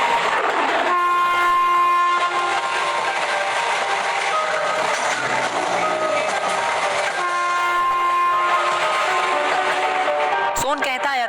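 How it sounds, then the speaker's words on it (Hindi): A train pulls away with a loud, sustained horn blast that starts and stops, over rolling wheel and carriage clatter, with a short sharp click near the end; a voice talks over it. "तभी ट्रेन शुरू हो जाती है।"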